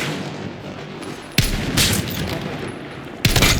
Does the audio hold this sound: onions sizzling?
no